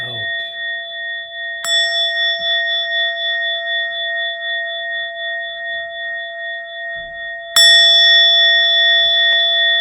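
A meditation bell is struck twice, several seconds apart, each strike ringing out loudly and then sustaining a long, clear, echoing tone that barely fades between rings, with no voices over it.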